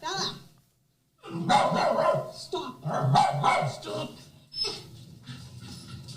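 A single dog barks and growls in several loud, close bursts after a brief silence, with a person speaking over the noise.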